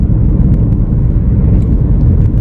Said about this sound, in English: You can hear the tyres